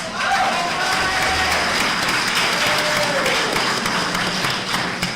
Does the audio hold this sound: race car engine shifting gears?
no